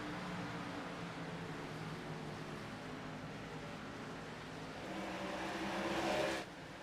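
Race car engines in an iRacing simulation of an Xfinity Series race at Nashville Superspeedway, a steady, fairly faint roar of cars at speed that swells near the end as a car passes, with no talk.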